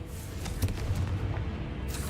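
A deep, rumbling blast from a Confringo spell in a video game rolls out as one sustained, booming explosion, heavy and loud with no voices over it.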